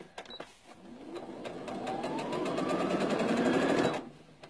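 A sewing machine runs a short burst of stitching along a fabric seam, its motor rising into a steady, close whirr with a rapid needle rhythm before stopping abruptly, followed by a few light mechanical clicks.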